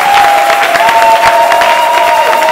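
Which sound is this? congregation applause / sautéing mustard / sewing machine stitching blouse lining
congregation applause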